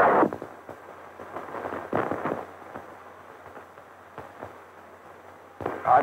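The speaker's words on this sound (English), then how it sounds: "Astronaut Cooper had fired the retro rockets" Retro rockets firing on the 1963 Mercury Faith 7 spacecraft, heard as a crackling, popping burst over a quieter rushing background, fairly distant and uneven, with stronger pops at the start and end.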